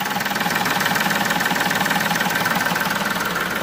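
A Chevrolet Beat's engine idles after a turbocharger replacement, running close and steady with an even, rapid pulsing throb and no voices over it.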